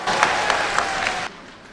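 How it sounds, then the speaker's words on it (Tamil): Audience clapping during a young girl's speech at a Tamil public event, a dense burst of applause lasting about a second before cutting off abruptly into quiet room tone. "கைத்தட்டல் விழுகிறது"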